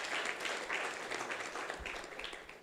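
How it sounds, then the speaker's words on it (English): An indoor audience at a community center gathering applauds, a dense, steady wash of clapping from many hands that tapers slightly toward the end. "Please give another round of applause for the amazing points brought up by either side."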